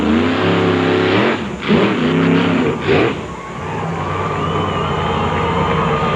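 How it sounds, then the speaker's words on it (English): A monster truck engine at a monster truck show roars loudly up close, surging in two quick revs and then settling into a steady, heavy drone with a rising whine, set against crowd and arena noise. "The car's rolling."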